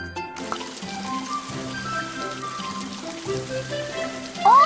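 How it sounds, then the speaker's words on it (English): Cartoon tap water running to rinse vegetables, a light continuous trickling splash under playful background music, ending in a brief bright sparkle effect. "Turn on the water and rinse."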